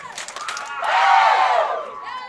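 A crowd at an Indiana high school bowling match cheers loudly after a strike, a rising roar of shouts and whoops that swells and then fades over about two seconds.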